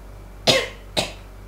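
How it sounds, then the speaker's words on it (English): Two short, dry coughs, close and fairly loud, separated by a brief pause, with no talking. "I kept having this dry cough and it's really annoying."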